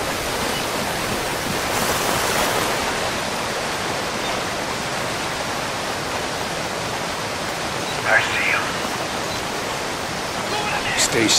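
A waterfall in the video game Call of Duty: Ghosts pours as a steady, dense rushing roar throughout, with brief game sound effects over it near the end.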